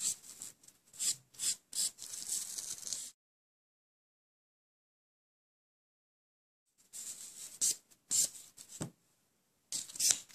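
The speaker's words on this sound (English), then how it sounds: "With the buffer, remove the shine of the nails." A 180-grit or finer nail buffer rubs across gel-polish nails to remove their shine, giving close, soft rasping strokes in quick bursts, then a long silence before more strokes resume.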